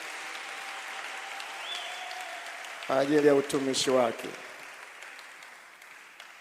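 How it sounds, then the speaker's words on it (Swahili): A church congregation breaks into a short burst of applause lasting about a second and a half, while a preacher keeps speaking over it in a quiet hall. "naomba mumpe makofi mengi Bwana Yesu kwa ajili ya utumishi wake"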